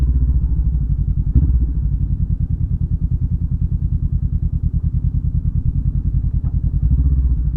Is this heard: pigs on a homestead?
no